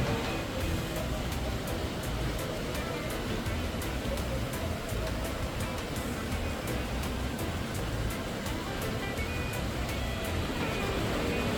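A large monsoon-fed waterfall pours a huge volume of water from a great height, heard as a loud, steady, unbroken roar of broadband rushing noise with no talking.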